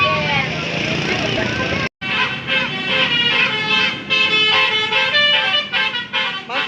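An Indonesian bus sounds its telolet horn in a loud, close, melodic sequence of tooting notes, briefly cut off and then resuming in rhythmic bursts, with engine rumble beneath.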